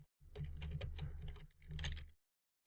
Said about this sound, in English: So if I just type some random hexadecimal numbers and letters